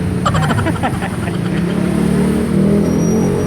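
Honda Click 125 scooter engine idling and revving, a steady motor drone with brief throttle blips near the start, recorded close by at a dealership.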